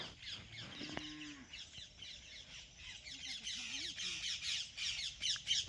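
Parrots squawk in a dense, faint chorus, growing busier toward the end, while a cow lows once early on.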